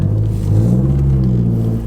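A MazdaSpeed3 with a bigger turbo and Cobb upgrades pulling away, its engine and exhaust giving a steady, close low rumble that swells slightly as it moves off.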